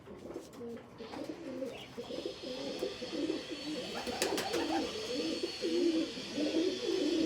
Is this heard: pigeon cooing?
yes